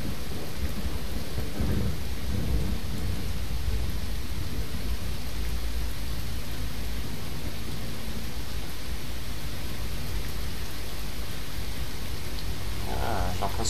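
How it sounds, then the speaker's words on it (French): Radioactive rain and thunder in the video game Fallout 4: a steady, loud rain hiss with low rolling thunder rumbles underneath, continuous throughout. "j'ai l'impression que c'est un truc radio, une pluie radioactive"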